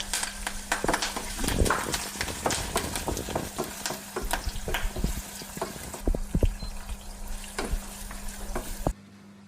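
Shallots and curry leaves fry in hot oil for tempering a Kerala-style chicken stew. There is a continuous close sizzle broken by scattered stirring clicks and scrapes, and it cuts off abruptly near the end.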